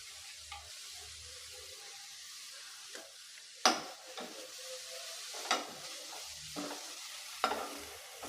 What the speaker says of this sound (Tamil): பாருங்கள், இந்த அளவுக்கு நல்லா வதக்கி விட்டாச்சு